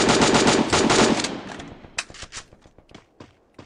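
Rapid bursts of video game gunfire crack out loud and close, a dense automatic volley first, then sparser separate shots trailing off.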